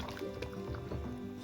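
Water sloshes and swishes back and forth in a container as a fox skull is rinsed clean of peroxide, a steady close liquid churning with faint drips.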